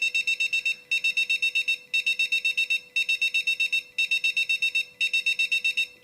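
Enuflex bedwetting alarm sounding: shrill electronic beeps in rapid trains, with about eight pulses per burst and six bursts repeating steadily, loud and close in a quiet room.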